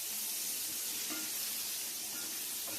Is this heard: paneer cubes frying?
yes